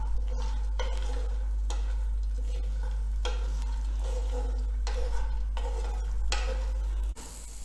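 Fresh pigeon pea (tur) beans roasting in a pan, with periodic scraping stirs over a constant low hum and a faint sizzle, close by and without speech.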